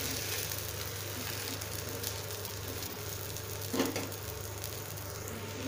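A mudakathan keerai dosa frying on a hot pan after being flipped, giving a steady, even sizzle with a brief scraping rustle partway through.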